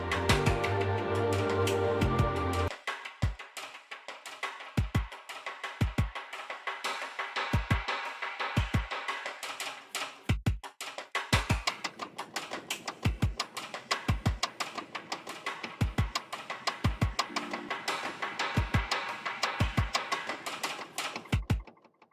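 Orchestral sticky drum hits from a tutorial on a tune, with a dense sustained intro giving way to sharp, evenly spaced percussive strikes over a busy, shimmering instrumental bed, loud and steady throughout.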